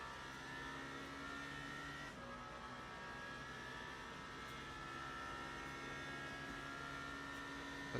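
Toyota hypercar engine in the Le Mans Ultimate racing game, a steady sustained drone with tonal harmonics that shift slightly in pitch around two seconds, continuous and fairly loud with no talk.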